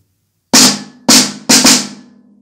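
Percussion instruments strike three loud, sharp hits, with the last two coming quickly one after another, each decaying with a bright metallic ring after a moment of silence.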